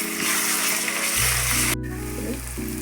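Ginger garlic paste sizzles steadily in hot oil with fried onions for a spicy country chicken curry, a close, continuous crackling fry with faint stirring and a low background hum.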